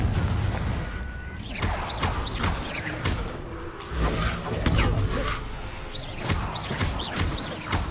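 Repeated Confringo blasting-spell explosions from Hogwarts Legacy, a string of sharp bursts every second or so over busy game ambience, fairly loud and close, with no talk.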